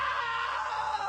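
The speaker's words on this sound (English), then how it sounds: "Now that was a great scream." A drawn-out scream from the video game What Remains of Edith Finch, a single sustained wailing cry, loud and continuous, heard alone.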